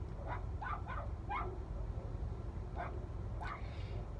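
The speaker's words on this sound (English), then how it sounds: "Do you think those dogs see Lola's food?" Several dogs barking and yipping in short bursts from inside a parked car nearby, heard through a closed window over a steady low cabin rumble.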